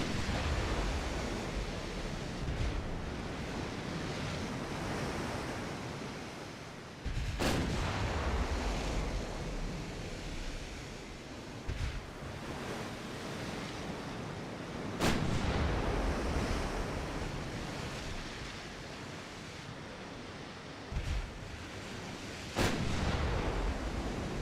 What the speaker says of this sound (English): We just got hit in the face with a 10-inch gun.